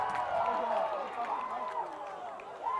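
A crowd at a schoolboy rugby match cheers a fullback's counterattacking run, a diffuse roar swelling and fading in the background beneath a commentator talking.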